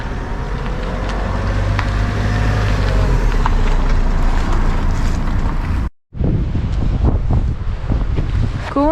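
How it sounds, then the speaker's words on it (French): Strong wind buffets the microphone in a constant loud rush, with a brief dropout before the gusting roar resumes. "Il y a un peu de vent quand même"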